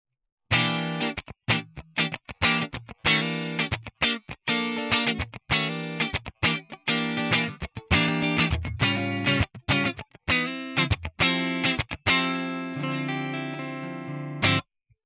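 Electric guitar on its neck pickup through an amp with a warm, round tone, strummed chords and short picked phrases in a steady rhythm, ending on a sustained ringing chord.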